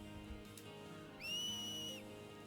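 A two-tone finger whistle from the Final Fantasy X Remastered game, used to cheer on Blitzball players, sounds once as a single sustained shrill note of about a second over a quiet game backdrop.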